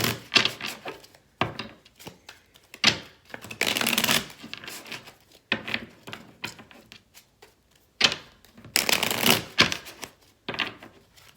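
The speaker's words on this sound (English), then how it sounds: "let me go ahead and shuffle your cards real fast" Tarot cards shuffled by hand in close, repeated bursts of papery riffling and rubbing, separated by short pauses, with no voices.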